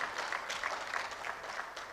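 Steady applause from an audience at an engineering memorial lecture, a dense continuous patter of many hands held at an even level for the whole stretch.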